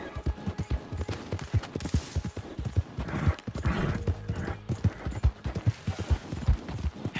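Rhythmic clip-clop of horse hooves trotting at a steady pace in the video game Red Dead Redemption 2, clear and close, with occasional snorts and background ambience.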